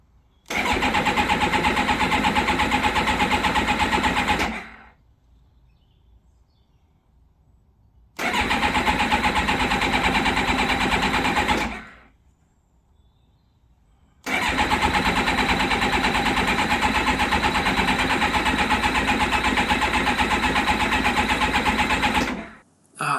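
A Kawasaki ZX-7R motorcycle is cranked with the choke on, three long loud bursts of steady starter churning separated by silent gaps, without the engine catching.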